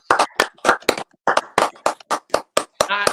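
Close, crisp hand claps from a few people on a football podcast, sharp individual slaps in an uneven rhythm with short gaps, ending on a brief bit of voice.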